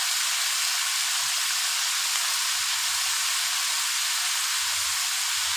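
Ginger and garlic paste sizzles as spices fry in hot oil in a home kitchen, a steady loud hiss with no breaks and no one talking.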